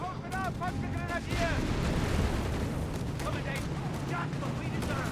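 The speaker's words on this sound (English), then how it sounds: "Bombarding the troops beleaguered inside the building." Artillery bombardment and gunfire in Company of Heroes 3, with troops pinned inside a building: dense booms and rattling shots under continuous excited commentary.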